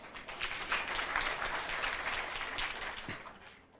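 Audience applause at a university vice-chancellor candidate presentation, a sustained wash of many hands clapping at moderate level throughout, fading slightly toward the end, with no voices.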